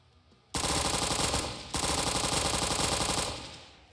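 Honey Badger rifle with an integrated suppressor fires in a video game: a sustained automatic burst, briefly interrupted, then a second long burst trailing off, loud and close with no talk.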